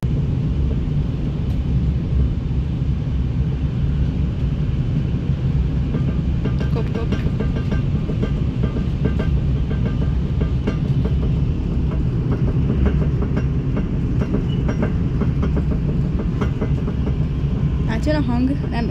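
An ÖBB Talent or Ventus passenger train rolls along the rails in Austria, a dense, continuous low rumble heard from inside the carriage with light rhythmic clicks and rattles on top.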